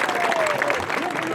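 A crowd at an outdoor political speech breaks into applause, a brief burst of dense clapping with voices mixed in.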